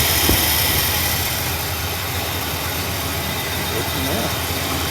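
A 1965 Pontiac Bonneville engine idles steadily on a new Edelbrock carburetor, a loud, continuous broadband roar close by with no break.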